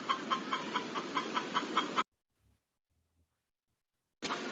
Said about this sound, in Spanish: Vamos a escuchar cómo hace la gallina.